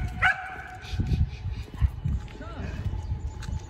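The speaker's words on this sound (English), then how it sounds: "she barks." A dog gives a quick bark near the start, heard under a person talking outdoors, with soft thumps and background noise continuing throughout.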